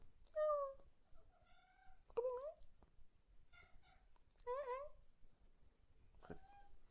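A cat meows repeatedly indoors in a room, several clear drawn-out meows with rising and falling pitch, close and fairly loud, spread across the moment with short pauses between calls.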